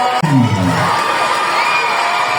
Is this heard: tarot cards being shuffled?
no